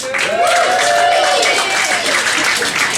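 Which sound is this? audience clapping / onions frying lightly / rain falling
audience clapping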